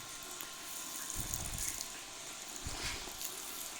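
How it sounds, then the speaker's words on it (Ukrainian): Water flushed through the intake of a VW Caddy 2.0 TDI diesel engine during carbon cleaning makes a steady close hiss, broken by two short, low gurgling surges. "Ділаю невелику промивочку, щоб водичкою прогнало."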